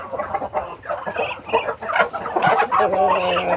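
Backyard farm chickens clucking and squawking at feeding time as cracked corn is put out, a busy overlapping cluster of close, fairly loud bird calls with no talking.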